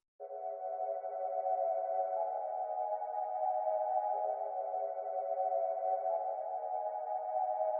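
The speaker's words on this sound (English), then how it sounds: "I switched up the initial pads just to match the vibe for the second section" Soft, sustained synth pad chords drifting smoothly with gentle shifts in tone, mellow and steady throughout with no other sounds.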